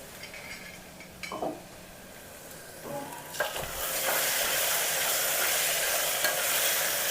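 Onions stirred as they fry in a pan for a pepper beef roast: a few scraping strokes of a spoon, then a steady loud sizzle swelling up and continuing to the end, no voices.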